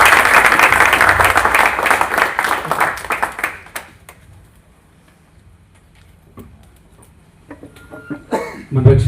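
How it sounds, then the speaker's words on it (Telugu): A church congregation at Sunday worship applauding to welcome visiting ministers, a loud burst of many hands clapping for about four seconds that then fades to scattered claps and quiet room noise, with a brief rustle at the end. "మన మధ్యలో దైవజనులు వచ్చినప్పుడు చప్పట్లు కొట్టి ఆహ్వానం"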